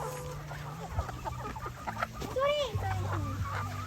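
Rhode Island Red and Black Australorp chickens clucking and calling close by in a busy run, short chirpy and warbling calls overlapping under a steady low hum.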